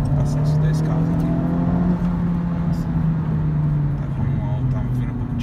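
A Honda Civic Type R with a 2.0 turbo engine of 300 hp drones steadily on a highway while overtaking. The loud, close interior engine note swells slightly and then eases, with someone talking over it.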